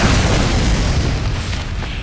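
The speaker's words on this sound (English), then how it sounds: "there he goes, constantly firing off rockets" Rocket explosions from the video game Team Fortress 2 rumble in a dense, continuous barrage of deep booms and bursts, loud and close, with no talk.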